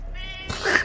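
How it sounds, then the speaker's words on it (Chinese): A cat meows once, loud and very close to the microphone, a brief drawn-out cry heard over the quiet background of a Rainbow Six Siege game session. "哇，猫咪！ 离麦克风好近哦"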